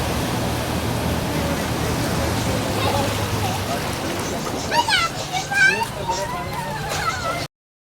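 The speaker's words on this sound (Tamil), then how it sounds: "ஒவ்வொரு காரும் கிராஸ் ஆகிறப்ப கடலுக்குள்ளே இருந்து அலை வர மாதிரி தண்ணி மேலே வந்துட்டுருக்குங்க" Cars drive through a flooded road during heavy rain in Sharjah, Dubai, sending up a continuous rushing wash of splashing water like surf, while children's voices and shouts rise near the end.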